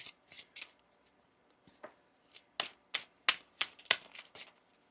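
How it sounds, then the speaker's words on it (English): Quiet, close tarot card shuffling: a series of quick riffling bursts and soft slaps, spaced irregularly, with no talking. "One more shuffle here."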